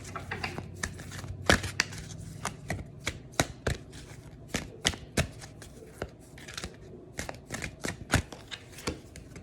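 Tarot cards are shuffled and drawn, including a numerology card, with crisp riffling and sharp snaps of cardboard coming close and at an irregular pace throughout.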